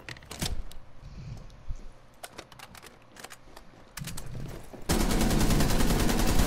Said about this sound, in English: I just spam-fired my deagle and got a double